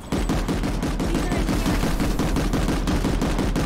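Rapid automatic gunfire from the video game Planetside 2, a dense, loud, continuous stream of shots with short bursts blending together and no talk over it.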